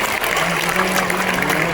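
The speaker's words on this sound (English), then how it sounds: "A big round of clapping for LIC." A convention audience at an LIC Chairman's Club event in Indore gives a big round of clapping. The applause is dense, continuous and fairly loud, filling the hall throughout with no other sound on top.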